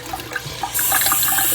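A steady broadband rush of running water starts partway through and continues evenly, like a tap turned on nearby in a hotel room.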